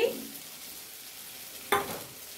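Potatoes sizzle in a pan with a cooked-down spice masala, a steady low frying hiss broken by a sharp scrape or clatter of a stirring spoon near the end, close and fairly quiet, with no talking.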